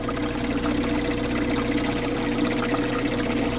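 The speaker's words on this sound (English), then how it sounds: "sponge over the end here so it's drawing the water through" Water drawn steadily through a sponge held over the end while polishing a stone pistol grip, a constant gurgling, pump-like rush that stays even and close throughout.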